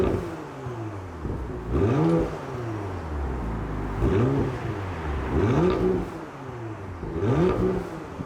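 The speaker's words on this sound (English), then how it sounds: "let's give it a start up in Sport Plus." A 2020 Porsche Macan Turbo facelift in Sport Plus mode settles into a subdued idle after start-up, with several short revving blips rising and falling over a steady low engine rumble, heard close and alone.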